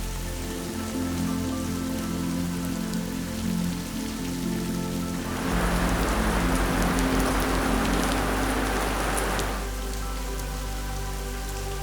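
Rain falling in the hills of Wayanad, a steady hiss of drops on surfaces that swells into a heavier, louder downpour midway before easing back, with no voices.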